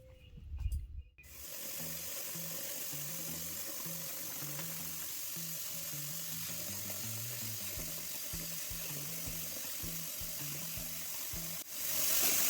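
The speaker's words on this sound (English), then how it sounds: "After harvesting, I wash the herbs thoroughly and prepare them for drying." Fresh herbs rinsed under a running tap in a sink, a steady wash of water with a low, pulsing gurgle throughout, close and fairly quiet, with a brief louder splash at the start and end.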